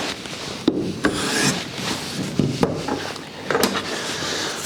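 A hand plane working a sapele wood board for a shoe rack, loud and close, with repeated rasping strokes broken by sharp clicks as each pass ends.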